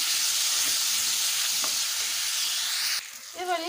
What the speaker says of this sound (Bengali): এবারে ভালোভাবে নেড়ে চেড়ে ভেজে নেব।